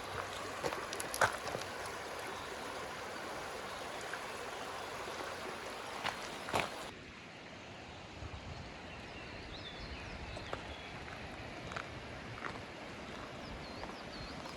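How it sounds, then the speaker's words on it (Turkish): A steady, broadband rush of flowing water from a stream fills the clip, continuous and fairly close, with a few faint clicks and knocks over it, in Austria. "Şu derenin sesini dinleyin."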